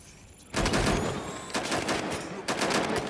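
Gunfire in the video game Watch Dogs Legion erupts after a brief quiet lead-in, with loud bursts of rapid shots that pause and then return, sounding close and forceful.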